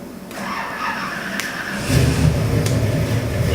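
A 540 cubic inch big-block Chevrolet crate engine in a 1967 Chevelle cranks and fires about halfway through, then settles into a loud, close, deep rumbling idle.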